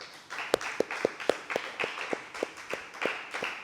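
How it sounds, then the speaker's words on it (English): Light applause for a children's choir at a church feast Mass: a handful of hands clapping in a loose, uneven rhythm, roughly three claps per second, moderately close and fairly soft. "Please give them a round of applause."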